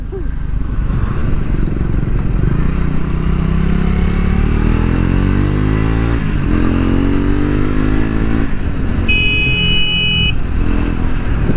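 A Triumph Speed 400 motorcycle pulls away and accelerates through the gears, its engine note climbing in rising sweeps up close, with a brief horn-like tone near the end.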